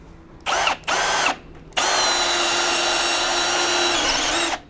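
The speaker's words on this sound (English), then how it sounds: "I'm going to drill into that one there." A power drill boring into nailed timber whirs in two short bursts, then runs steadily under load for a few seconds before stopping, close and loud.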